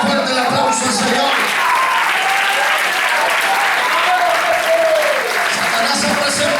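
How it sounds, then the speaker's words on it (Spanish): A church congregation bursts into loud, sustained applause for the Lord, a dense steady wash of clapping filling the room from start to finish, with voices mixed in beneath. "Dale fuerte el aplauso al Señor."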